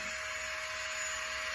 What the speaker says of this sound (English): I got it. Vacuuming.